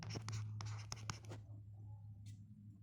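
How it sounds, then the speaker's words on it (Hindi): A pen scratches notes onto paper in a series of close, quick strokes over a low steady hum, then trails off into quiet. "एक और नोट्स लिखेंगे।"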